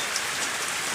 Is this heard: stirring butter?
no